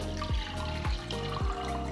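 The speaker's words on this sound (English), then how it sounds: "After pouring the strained liquid into the pot" Strained drumstick leaf (moringa) soup poured into a saucepan, heard as a few close liquid splashes and glugs in a quick rhythmic sequence over a steady background hum.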